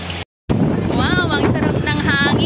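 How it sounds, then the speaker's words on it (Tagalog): Wind buffets the microphone in a steady, loud rush, briefly cut to silence near the start, with a voice speaking over it. "Wow, ang sarap ng hangin dito."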